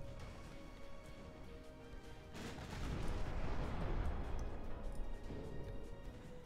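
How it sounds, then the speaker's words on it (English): Warship guns fire at point-blank range in Ultimate Admiral Dreadnoughts, a rumbling boom at about two and a half seconds that swells into a sustained roar of gunfire, then slowly fades beneath a low, constant background drone. "now we're just firing at literally point-blank range"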